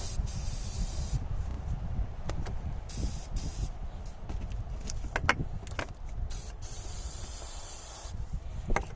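Oil sprays in repeated short and long bursts onto an offshore boat motor, hissing close by with brief pauses between squirts and faint rustling underneath.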